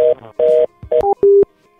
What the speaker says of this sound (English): And then they have this phone ringing right now.